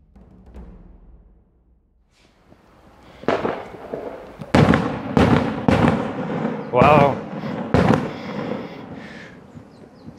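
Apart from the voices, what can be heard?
fireworks banging at a festival near Mt. Fuji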